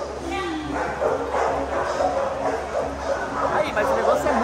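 A dog at an animal shelter yips, whimpers and barks close by in rapid, excited bursts while people talk over it.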